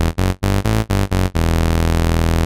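A buzzy saw-wave synth bass, one oscillator transposed an octave down, plays a low note in short rhythmic pulses, then sustains one long droning note.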